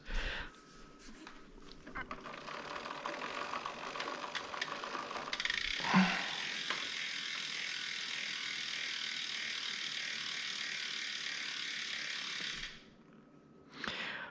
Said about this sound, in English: Rotate the crank arms.